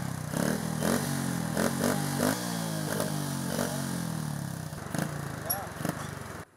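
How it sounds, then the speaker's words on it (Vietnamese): Young riders' motorcycles with modified exhaust pipes rev and clatter in street traffic, a raspy, uneven engine note with repeated throttle bursts, moderately close and steady over several seconds. "Trong số đó có nhiều phương tiện đã được các thanh niên độ pô như thế này."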